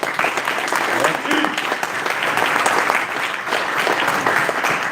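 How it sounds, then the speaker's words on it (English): Audience applause at a Rochester Lancers press conference, steady, dense clapping filling the room from start to finish at a fairly loud, even level. "Give him a round of applause."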